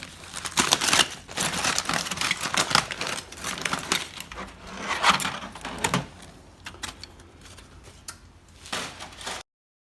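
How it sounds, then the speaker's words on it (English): A knife saws into a cooked medium ribeye steak, a close run of crisp crackling and scraping strokes that thin out toward the end before cutting to silence. "Now it's time to cut into the ribeye."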